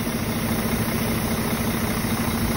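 A tractor-trailer truck engine runs at a steady idle, a close, continuous low rumble with an even vibrating hum and no speech.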